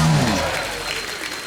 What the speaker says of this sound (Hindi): उषा दीदी के लिए जोरदार तालियां